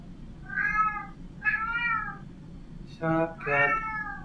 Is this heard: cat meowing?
yes